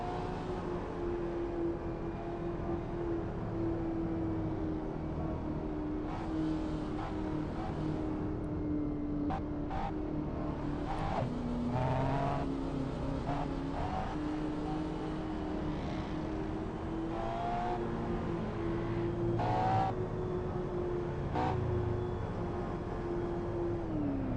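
Cars cruising the Shutoku expressway in multiplayer Assetto Corsa, a steady engine drone with shifting pitch and occasional revs, plus faint brief clicks and bumps, continuous for the whole stretch with no speech.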